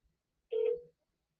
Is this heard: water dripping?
no